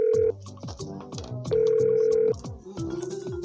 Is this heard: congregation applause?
no